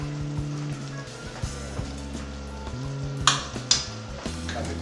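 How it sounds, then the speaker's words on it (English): Filet mignon steaks sizzle in a thick, bubbling pepper sauce in a pan, a moderate frying hiss over a steady background hum, with a couple of sharper crackling bursts near the end. "And we're gonna place them in the pan,"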